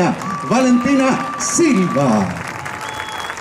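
Applause and crowd noise for the newly crowned harvest festival queen at the Fiesta de la Vendimia in Chillán, running under a loud announcer's voice.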